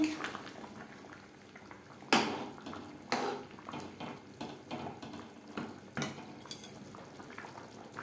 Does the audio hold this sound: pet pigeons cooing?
no